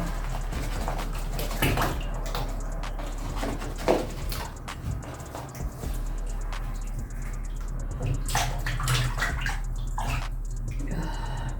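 Water poured over hair during a deep cleaning of locs splashes and trickles steadily with sloshing bursts, close by, over a low constant hum.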